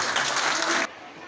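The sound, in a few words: audience applause at children's award ceremony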